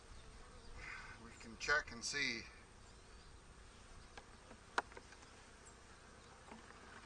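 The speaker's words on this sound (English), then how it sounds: "There's a lot of bees in here." Honey bees buzz in an opened hive, a faint, steady drone with a few louder passes close by, while a person speaks briefly over it.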